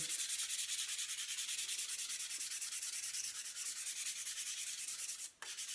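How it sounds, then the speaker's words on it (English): Steady, close sanding of an end grain cutting board with 400 grit sandpaper: a continuous dry, hissy rubbing that runs without a break, then one brief pause near the end. "I usually finish these with a 400 grit sandpaper, so you can just re-sand it lightly."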